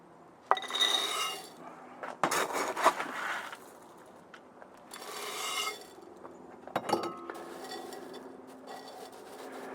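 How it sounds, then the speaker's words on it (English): Coarse bonsai soil is poured into a round pot in several bursts, each a gritty rattling rush of granules with clinks and pauses between pours. "Let's put some bigger bonsai soil in the bottom for base layer number 1"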